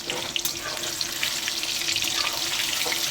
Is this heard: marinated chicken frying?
yes